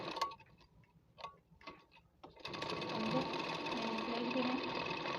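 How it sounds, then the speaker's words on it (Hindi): A sewing machine stitches a salwar: a few faint clicks and taps, then the motor settles into a steady, close, continuous whirring drone of rapid stitching. "हाणे असां हिते सिलाई कंदासीं सलवार जी"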